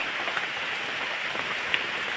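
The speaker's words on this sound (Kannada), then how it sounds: "ಮಳೆ ಬರಲಿಕ್ಕೆ ಶುರುವಾಯಿತು" Steady light rain pattering on a surface, a soft continuous hiss with occasional individual drops, no talking.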